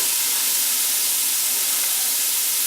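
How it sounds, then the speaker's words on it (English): A constant, loud, bright hiss of food frying in a pan, close and steady without pause. "you see it's sizzling nicely"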